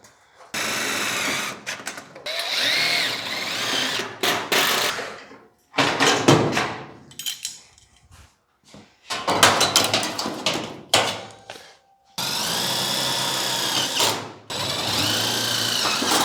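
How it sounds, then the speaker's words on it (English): A power drill drives screws into the fabricated front end of a 1951 Ford shoebox, several separate whirring bursts of varying length separated by quiet gaps, close and loud with no talking. "Can I put a few screws in?"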